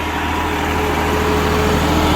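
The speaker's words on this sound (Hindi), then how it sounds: "ट्रैक्टर पर कोई लोड नहीं दिखाई दे रहा मुझे, और ट्रैक्टर बहुत ही स्मूथ चल रहा है।" Steady, smooth drone of a CRDI tractor engine running in eco mode with no load, a constant close mechanical hum with a faint high tone, heard alone without talk.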